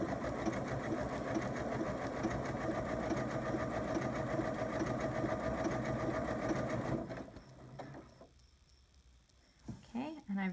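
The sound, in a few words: sewing machine stitching quilt block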